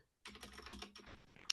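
Quick, close clicking of keys on a computer keyboard during an online meeting, with a short burst of soft, rapid taps and no talking.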